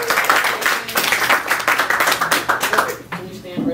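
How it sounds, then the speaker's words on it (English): Audience at a print business networking seminar clapping for a volunteer called up on stage, close and lively hand claps with a ragged rhythm that thin out and stop near the end. "As the audience applauds, of course."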